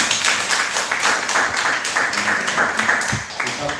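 An audience welcoming a newcomer to a seniors' class with a steady burst of applause, many hands clapping densely and evenly for several seconds, close and fairly loud, with a little talk underneath.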